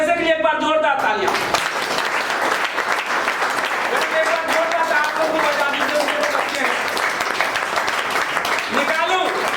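A crowd at a business leaders' meeting gives loud, sustained applause, continuous dense clapping throughout, with a voice speaking over it.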